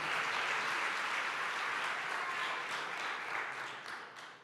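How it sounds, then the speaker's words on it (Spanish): Congregation applauding in a church service, a full, sustained wash of clapping that holds steady and then begins to thin out toward the end. "Si le va a aplaudir, apláudele fuerte al rey"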